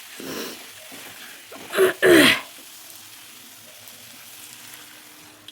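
Water poured onto frying spice masala for a paneer and potato dum curry sets off a sudden loud hissing burst lasting about half a second, then fades to a faint simmer.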